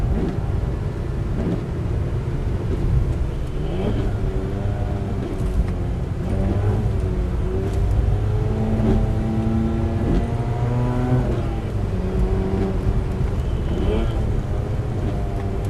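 A car lapping the wet Nürburgring Nordschleife, heard from the cabin as loud engine drone with rising and falling revs through gear changes, while a driver talks over it.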